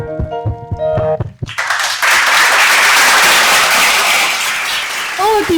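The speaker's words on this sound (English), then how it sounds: "Let's appreciate them with a big round of applause." Brief music gives way to a loud, sustained round of audience applause for the performers at the LIT-FEST 2026 school literary festival, Delhi World Public School, Hyderabad, with a voice briefly heard at the very end.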